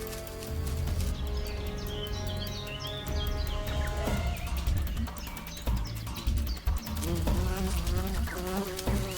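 A bee buzzes continuously while fighting a bull ant at night, a loud, close insect drone with wavering pitch that runs throughout, joined by higher chirping sounds in the later part.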